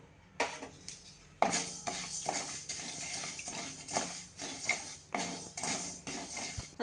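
Fennel seeds and ajwain dry-roasting in a pan for a homemade pav bhaji masala, with repeated metallic scraping and clinking of a spoon stirring against the pan in short bursts, close and fairly loud.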